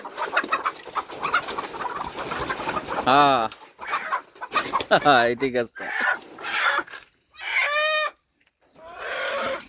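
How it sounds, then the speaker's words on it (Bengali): Bangladeshi native chickens on a farm in the Saudi Arabian desert cluck and call in short bursts close by, while people talk briefly between the sounds. "আমাদের বাংলাদেশি মুরগি।"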